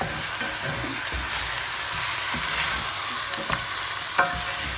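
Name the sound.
stirring rechta sauce with cinnamon in a pot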